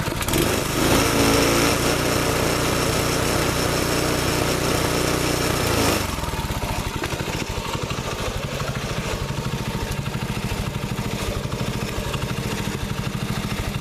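A small single-cylinder engine, a 6.5HP Honda clone on a Baja Warrior minibike revived after water seizure, idles steadily up close, a loud, even chugging that drops slightly in pitch and level partway through and keeps running.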